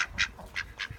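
Ducks quack in about four short, quick bursts within a second, close but fairly soft.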